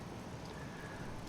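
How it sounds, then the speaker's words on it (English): Steady rain in Disco Elysium, a soft, dense hiss of falling drops heard faintly and without pause over a brief moment, with no voices. "This rain will not let up any time soon."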